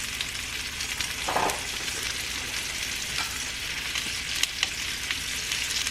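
Butter sizzles in a hot pan while Mexican-style crispy fried shrimp with heads cook, a steady close crackle that holds throughout with a few louder spits and no talking.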